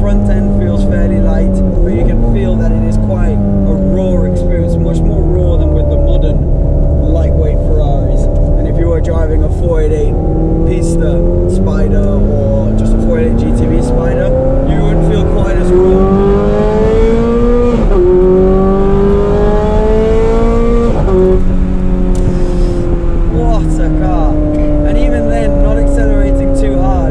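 A Ferrari with its stock exhaust and the roof removed revs hard while being driven, loud and close, pitch sweeping up through the gears and dropping on each shift, with talk over it.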